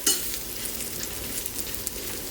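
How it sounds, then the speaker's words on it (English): About a cup of mushrooms browns in a hot pan with fat, a dense, even, close sizzle with faint stirring clicks and a sharper spatter at the start. "But now we're going to brown our mushrooms."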